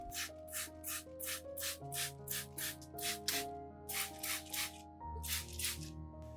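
A spray bottle pumped repeatedly, misting orchid leaves in short hissing bursts in an uneven rhythm, close and fairly quiet, with a faint hum underneath.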